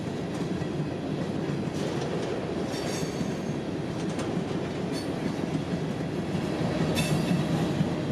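A long freight train of empty cars rolls past steadily in the Bone Valley, its continuous rumble and rail noise holding an even level throughout, with occasional metallic wheel squeals and clicks rising above it.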